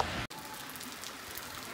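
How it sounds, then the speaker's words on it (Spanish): Heavy rain near the Tecolutla River in Gutiérrez Zamora, Veracruz, makes a steady soft hiss of drops on surfaces. It is faint and brief, with one tiny break at the start and no voices. "sigue lloviendo bastante fuerte"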